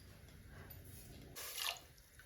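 Water poured into a pan holding sugar to make syrup gives a short, faint splashing burst partway through. Quiet background noise comes before it and a few small drips follow, with no speech.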